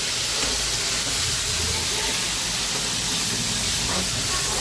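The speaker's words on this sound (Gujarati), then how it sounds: "વાહ વઘાર." Spices tempering in hot oil for a vaghar make a loud, dense hiss that fills the whole moment evenly, close by, with no distinct pops and no voices.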